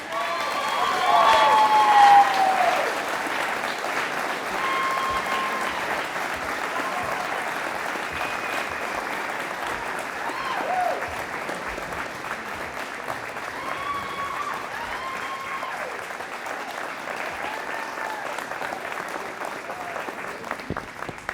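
A crowd applauds at a firefighter training academy graduation, sustained dense clapping that holds steady throughout, with occasional scattered voices and light cheering mixed into the roomful of hands.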